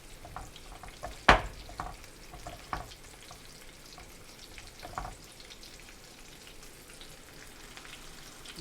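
Cornmeal-coated chicken fries in oil with a steady crackling sizzle, close up, broken by a sharp splash as a chicken leg drops in and a few later pops and clatters; no talking.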